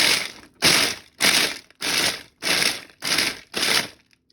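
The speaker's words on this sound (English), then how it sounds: "I'm going to start pulsing it to make our cauliflower rice" A food processor pulses frozen cauliflower into rice: seven loud, evenly spaced bursts of whirring, grinding chop, each about half a second long with brief gaps between them, close by and with no talking.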